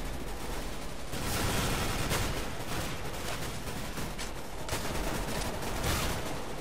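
Sustained bursts of gunfire in Counter-Strike: Global Offensive crackle loud and dense throughout, rapid shots overlapping with little pause.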